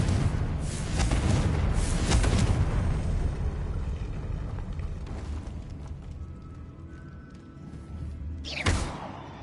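Confringo blasting spell in Hogwarts Legacy bursts into a loud, rumbling explosion that slowly fades, followed later by a sharp crackling burst near the end, with no voices present.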